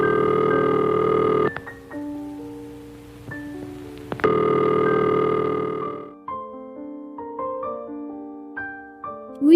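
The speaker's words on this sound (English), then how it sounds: "And this is the ringing signal." An old-fashioned telephone ringing signal after a rotary dial, heard as bursts of buzzy tone broken by pauses, followed by scattered tones and clicks, fairly loud with no voices.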